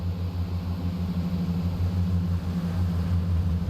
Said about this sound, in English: Hear that delightful diesel engine give us some oomph.